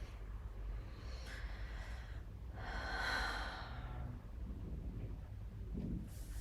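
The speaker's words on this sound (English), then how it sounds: "Maybe even going a little deeper on the exhale here." A deep, slow exhale during a gentle yoga session, with a long airy breath rising and fading over a low steady room hum, close and quiet, with no talking.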